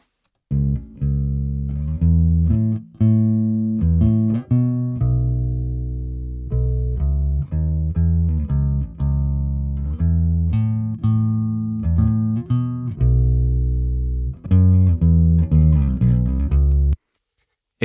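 A bass guitar playing a bouncy line of plucked notes through an amp and cabinet tone, full and bassy, loud and alone.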